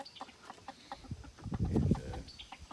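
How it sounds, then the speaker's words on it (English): Chickens cluck softly in short, scattered calls near their coop, with a louder burst of rustling activity in the middle before the clucking resumes. "here's the chickens"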